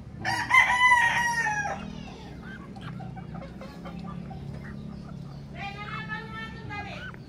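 A White Kelso gamefowl rooster, an imported-line cock, crows loudly and close at the start, with a second crow near the end and low background noise between.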